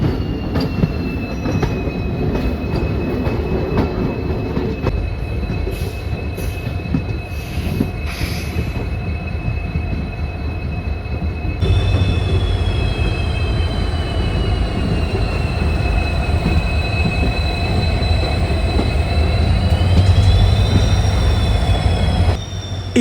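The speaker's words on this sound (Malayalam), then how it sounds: "മംഗലാപുരം സുബ്രഹ്മണ്യ റോഡിലെ ഈ ഒരു ഡീസൽ ലോക്കോ ട്രെയിൻ ജേണി" A diesel locomotive train runs on the Mangalore to Subrahmanya Road line, with a steady loud rumble of wheels on rails and long high-pitched squeals from the wheels throughout.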